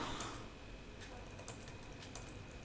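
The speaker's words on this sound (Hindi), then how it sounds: "इस तरह से हमने कुछ टाइप किया" Computer keyboard keys tapped in sparse clicks, faint and close, over a low steady room hum, without speech.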